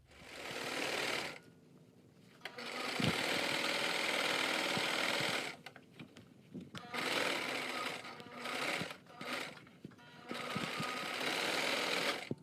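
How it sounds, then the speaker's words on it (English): Sewing machine stitching down the flaps of a fabric face mask, running close and loud in bursts of several seconds separated by short pauses, with no voices. "you're going to sew on both sides of this line right here, sewing down those flaps so you can have a pocket in the middle"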